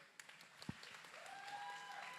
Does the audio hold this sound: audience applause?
yes